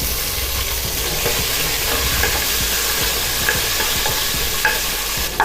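Chopped tomatoes sauté with softened onions in a pan, giving a loud, continuous sizzle and hiss with faint scraping as the mixture is stirred.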